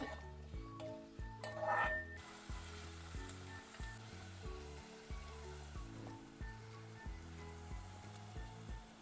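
Amaranth leaves (thotakura) sizzle steadily in a pan on the stove, a soft continuous frying hiss with occasional clinks of a utensil against the pan, fairly quiet and close.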